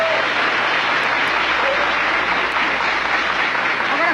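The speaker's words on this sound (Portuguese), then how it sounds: "Uma salva de palmas aqui, por favor." Studio audience applauding a Brazilian rock band on a 1989 television interview program, a dense, steady wash of clapping that fills the whole stretch at fairly loud level with no voices standing out.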